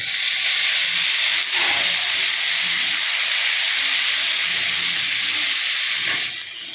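Chopped tomatoes hit a hot pan and sizzle fiercely, a loud, dense hiss that holds steady for several seconds before easing off near the end, with no talk.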